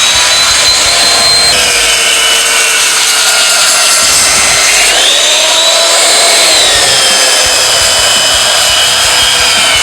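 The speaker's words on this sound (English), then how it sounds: "I need to use a belt sander so I can really get in there" Belt sander working across steel artwork built from hex-head bolts, a loud continuous abrasive whine with shifting pitch as the belt moves back and forth along the piece, steady throughout with no talking.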